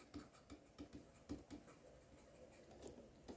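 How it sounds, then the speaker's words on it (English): Pen writing out notes during an A Level accounting lesson, a run of soft rhythmic scratches and taps close to the microphone, quiet and unaccompanied by talk, ending in a brief louder knock. "Let's write it down."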